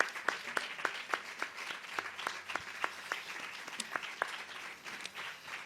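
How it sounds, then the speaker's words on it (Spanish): A small audience applauds after a lecture on flamenco and the Roma people in Spain, with sharp individual claps in a loose, regular rhythm over a soft background of scattered clapping, moderately distant. "Un aplauso para Paco, por favor."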